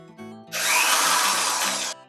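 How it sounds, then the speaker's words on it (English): Power drill bores a pilot hole for a roller blind bracket, a steady loud whirring burst of about a second and a half, starting and stopping abruptly against a quiet room. "Now you need to pre-drill your holes."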